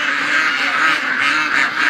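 Several ducks at a farm gate make a dense, continuous chorus of quacking, loud and close throughout, with overlapping calls and no clear pauses.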